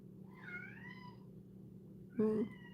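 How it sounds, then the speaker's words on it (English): House cat giving two soft, drawn-out meows, the first near the start and a brief louder one near the end, faint against quiet background hum. "Kitty cat."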